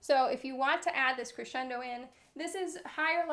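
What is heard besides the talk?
None of the usual background noises is heard.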